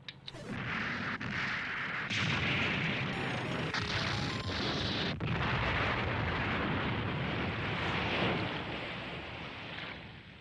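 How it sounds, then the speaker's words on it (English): A Gundam mecha blows apart in a loud, sustained explosion: a roaring, crackling blast that rumbles continuously for about ten seconds, with sharper crashes layered over the din. "I did see the explosion"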